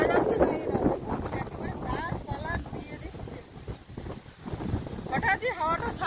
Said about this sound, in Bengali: হঠাৎই হাওয়াটা ছাড়লো একেবারে জোরে।